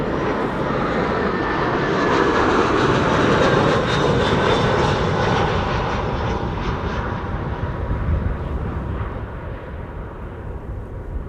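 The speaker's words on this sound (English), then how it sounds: "We have BA A319 arriving from London Heathrow." British Airways Airbus A319 arriving from London Heathrow at Amsterdam Schiphol, a loud, close jet engine roar that swells and holds steady, then eases slightly as the aircraft passes.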